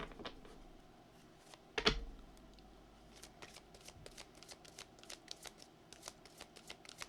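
A deck of tarot-style reading cards is shuffled by hand at close range, a sharp riffle burst followed by a run of soft, rapid card flicks and taps, with no talking.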